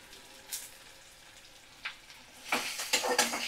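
Chopped onion and green chilies frying in a pan on a medium flame, a quiet sizzle with a couple of light clicks, then a louder burst of crackling toward the end.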